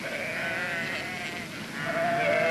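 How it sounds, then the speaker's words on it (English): Mob of sheep in the Australian bush bleating repeatedly, overlapping calls rising and falling at a moderate distance over continuous background noise, with no talking. "It looks like that's a mob of sheep."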